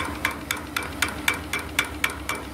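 A small water pump on a return-flue steam engine boiler knocks in a quick, even rhythm of about four sharp metallic beats per second, close and clear over a low background.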